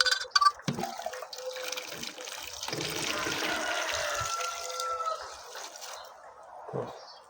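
Water pours steadily into a large 11-litre pot with a hollow, rushing sound, a few clanks at the start, and the flow tapering off near the end.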